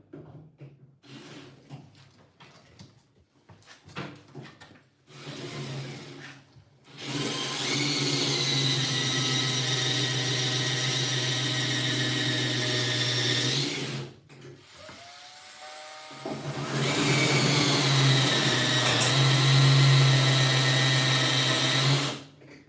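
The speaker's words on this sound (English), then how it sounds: "My drill is starting to overheat." A power drill that is beginning to overheat whines in two long sustained runs with a high steady tone, broken by a short pause and a brief spin-down, loud and close with no voices.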